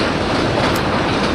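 A train running in the railway video game Rule the Rail, a loud steady rolling rumble with a faint clickety-clack, constant and close with no pauses.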